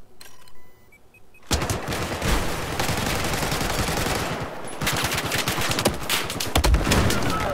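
Dense, rapid automatic gunfire in the Battlefield 4 video game, with long loud bursts of machine-gun fire and overlapping shots that barely stop after a quiet start.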